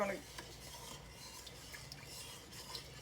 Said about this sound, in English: Mix in that molasses and make sure your sugar is dissolved.